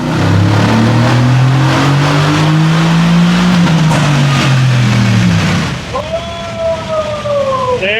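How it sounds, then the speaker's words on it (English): A 2018 Mercedes-AMG GT S with VRP headers revs hard and loud for several seconds with a rising, sustained roar. The engine then drops away into lighter, whistling engine tones near the end. "This is a beautifully running stock car."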